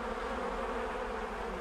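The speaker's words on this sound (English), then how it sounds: "Can you hear the bees?" Buzzing bees in the video game ARK, a steady droning hum that carries on without break and stays fairly loud, with no one speaking over it.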